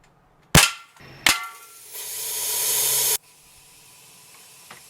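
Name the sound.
air rifle pellet shot at can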